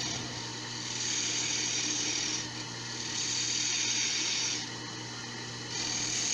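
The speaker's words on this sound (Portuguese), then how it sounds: "A escavação desse furo onde vai entrar a vela é feita com uma goiva de bacias, uma bitola pequena" A small bowl gouge hollows the candle hole in a wooden candlestick turning on a lathe, a steady close hiss of cutting over a low machine hum that swells and eases slightly between passes.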